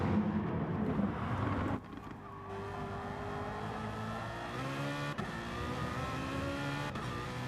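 A BMW M3 race car engine at Brands Hatch drones and revs steadily through gear changes, its tone rising and falling at a moderate distance with a brief dip early on.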